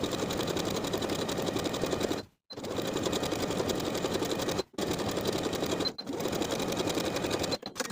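Sewing machine understitching a seam allowance to the facing of a wrap top, running in fast continuous bursts with three or four short stops between stretches, close and alone.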